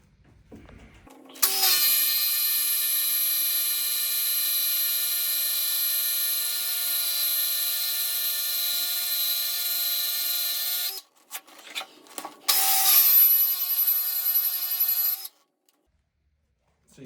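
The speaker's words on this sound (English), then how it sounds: "That's what I'm doing with the sander here." A power sander whirs loudly and steadily against a wheel being prepared for polishing, running for about ten seconds, pausing with a few scrapes and knocks, then starting again for a shorter burst before stopping.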